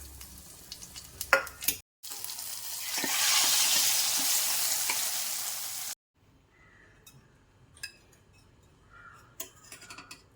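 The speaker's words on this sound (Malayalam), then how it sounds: "പാൻ വെച്ച് നെയ്യ് ചൂടാക്കിയിട്ട് അണ്ടിപ്പരിപ്പ് ഇട്ട് കൊടുക്കാം" Cashews and raisins fry in hot ghee in a pan for beef stew, a steady sizzle swelling for a few seconds, with a few scattered clinks and stirring noises before and after and no talking.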